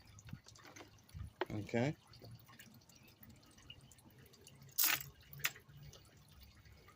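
Liquid dripping and trickling through a filter during gold recovery from chips, with brief splashy bursts around two and five seconds under a low background hum; a voice speaks briefly.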